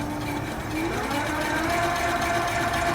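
Electric motor on a modified 24-volt controller, throttle-driven with the wheel jacked off the ground, a close, steady low whirring hum that slowly rises slightly in pitch.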